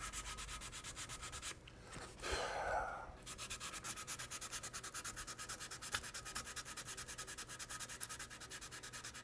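Hand sanding a wooden stock on a Remington 81 rifle with steady, rhythmic rubbing strokes close up. A brief louder, harsher scrub breaks in partway through, then the even back-and-forth rasping resumes.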